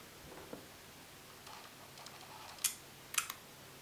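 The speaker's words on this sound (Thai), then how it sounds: "ลองกดดูฟังเสียงชัตเตอร์ครับ" Fujifilm X70 compact camera shutter fired during an unboxing, heard as two short sharp clicks near the end over quiet room tone, with a few faint handling ticks before.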